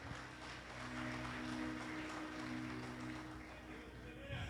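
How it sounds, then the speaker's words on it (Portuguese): A church congregation applauds, a soft, even wash of clapping that swells a little mid-way and then eases. Sustained musical tones hum faintly underneath. "Você pode dar um brado de glória a Deus e aplaudir ao Senhor Jesus bem forte"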